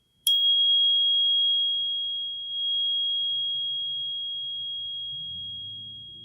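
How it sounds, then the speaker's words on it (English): A crystal tuning fork is struck once and rings with a pure, sustained high tone that slowly fades, close and clear, with faint low rumble underneath toward the end. "So this is a crystal tuning fork, clearing the energy in your field right now."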